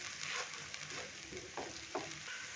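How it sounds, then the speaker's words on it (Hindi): Broken-up egg frying in a pan, a continuous close sizzle with a few soft spoon pushes and scrapes against the pan. "ताकि अंडा अच्छे से फ्राई हो जाए"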